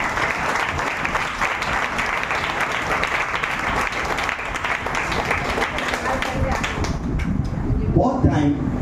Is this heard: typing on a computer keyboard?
no